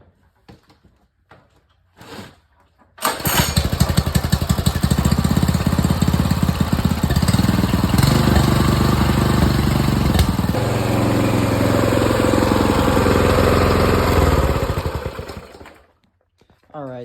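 A new Predator 224 small engine starts with a sharp pull, then runs loud and steady at close range for about twelve seconds, its pitch shifting slightly partway before it winds down and stops.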